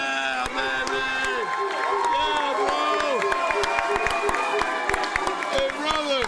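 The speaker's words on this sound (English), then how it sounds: "Please give a big round of applause." A crowd at a slap fighting tournament claps and cheers continuously, dense sharp claps under whoops and tonal shouts from many voices, loud and sustained throughout.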